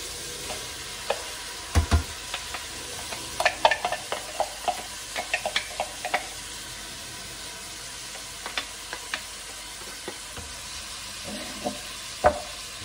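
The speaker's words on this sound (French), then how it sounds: "je rajoute mes oignons et l'ail" Onions and garlic fry quietly in a pan, a low crackling sizzle dotted with scattered sharp pops and clicks of utensils, no voices present.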